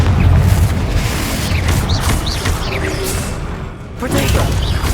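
A Confringo blasting spell explodes in the Hogwarts Legacy video game, a loud booming blast with whooshing bursts over continuous roaring action, while character voices shout over the din.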